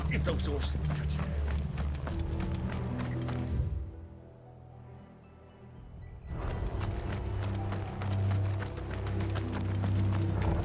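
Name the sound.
horses galloping, from the video game Final Fantasy XVI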